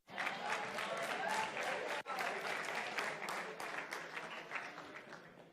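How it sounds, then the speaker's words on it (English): A school audience of young people applauds a volunteer called up from the back, a steady wash of many hands clapping that carries on for several seconds at moderate level, with a brief break partway through. "Give him a clap, guys."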